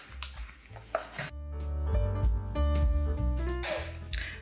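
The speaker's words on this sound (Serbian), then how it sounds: "Odmah dodajemo mleko u prahu i mutimo mikserom" An electric hand mixer whirs as it beats milk powder into a hot melted margarine mixture just taken off the heat, its motor whine rising and holding steady with clattering bursts around it.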